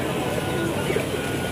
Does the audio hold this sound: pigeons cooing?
yes